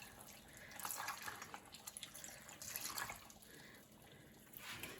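Milk is poured from a vessel over biscuits for a Tamil biscuit halwa dessert, a soft close liquid splashing and trickling that swells and fades in a few waves over about five seconds, with no talking.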